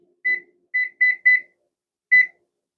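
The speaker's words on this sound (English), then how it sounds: "We'll set a timer." A kitchen timer beeps five times in short, clean electronic chirps, a group of four in quick uneven succession and a last one after a pause, with nothing else audible.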